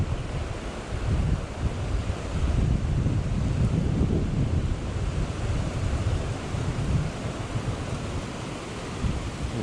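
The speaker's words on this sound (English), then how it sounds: "It is getting windy." Steady wind blowing beside a river in Utah, a dense continuous rushing roar with low microphone buffeting that holds loud and even throughout, with no voices.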